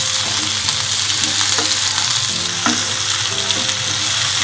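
Pumpkin and onions stir-fry over a low-medium flame, giving a loud, continuous close sizzle with occasional spatula scrapes and knocks against the pan; no talking.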